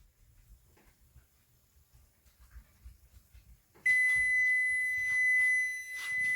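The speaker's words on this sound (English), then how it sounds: "Shut that timer off." A kitchen timer goes off after a dish has baked for twenty minutes, a loud steady electronic tone with pulsing beeps starting abruptly midway, preceded by quiet low kitchen rumbles and faint movement.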